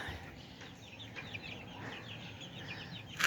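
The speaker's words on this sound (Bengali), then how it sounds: "আর যে এখানে সেই মুরগির বাচ্চাটা" A chick wanders on a rooftop poultry setup, giving soft repeated peeping and clucking calls at moderate distance over a quiet background hiss.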